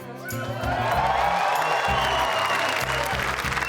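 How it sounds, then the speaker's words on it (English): A big live television studio crowd at a sports reality show's live final breaks into loud, sustained applause that swells quickly and holds steady, dense clapping filling the room. "We've got a big crowd here tonight"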